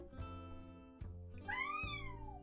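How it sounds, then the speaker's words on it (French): A cat meows in a drawn-out, sing-song way, rising and falling in pitch, close by and alone over a steady low background hum. "Très belle voix, le chat."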